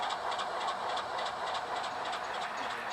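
A Burlington Northern Alco C-415 locomotive rolls by with its train. A steady mechanical roar carries a rhythmic clickety-clack of wheels over rail joints, moderately loud and continuous, with no voices.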